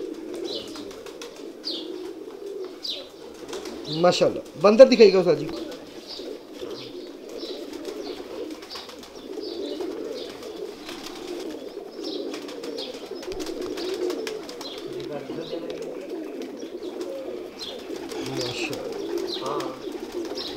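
Kamal pigeons cooing softly in a loft, a steady low murmur of coos running throughout with a brief louder burst of calls near the start, while someone speaks quietly in the background.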